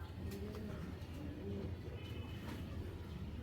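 Large old-breed giribaz tournament pigeons coo softly in a loft, a few low repeated coos over a steady background hum.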